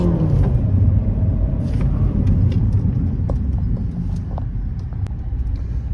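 A 2022 Renault Duster pulls away in first gear with a steady, close, low engine and road rumble that holds evenly throughout, with no voices over it.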